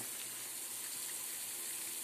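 Water poured over a kilo of sugar while cooking white Adeni incense, a steady, close pouring and gushing wash of liquid that runs without pause, with no voices.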